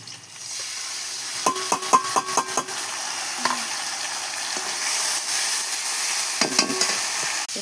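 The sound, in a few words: onion and spices frying for fish curry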